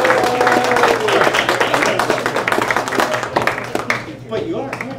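Loud, dense applause from a comedy club audience welcoming stand-up comedian Justin Blackburn to the stage, a steady wash of clapping with some cheering that thins out toward the end.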